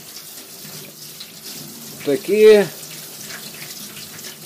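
Cold tap water runs steadily onto small boiled shrimp in a kitchen, a soft rushing stream that briefly gives way to a short spoken word.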